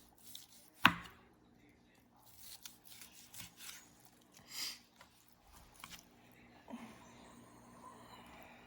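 A knife slicing through smoked pastrami, one sharp crunching cut followed by a series of soft, quiet slicing and squishing strokes at irregular intervals.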